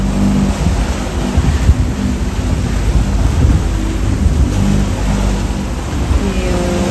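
A sailboat running under motor along the coast into a headwind, with a steady low engine drone and the wash and slap of heavy swell against the hull filling the whole stretch.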